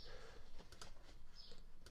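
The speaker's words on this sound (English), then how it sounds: "I bet you can hear that clicking, can't you?" Light clicking, like a computer keyboard or mouse, a run of quick irregular ticks close by under a low background hum, with no talk.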